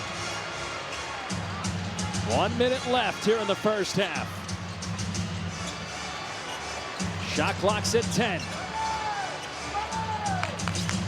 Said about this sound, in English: The crowd's still into it.